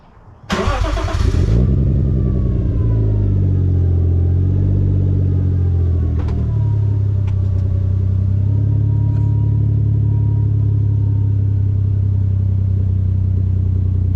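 Turbocharged Lexus IS200 with a Japspeed exhaust fires up from hot with a sharp burst, then settles into a deep, steady idle rumble with a few light blips, loud and close, no talking.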